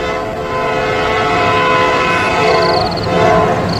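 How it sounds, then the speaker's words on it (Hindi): A train draws nearer along a railway track, its steady rumble swelling in volume while a horn-like tone sounds faintly and briefly near the end, with no talking over it. "ट्रेन की आवाज भी अब तेज हो जाती है।"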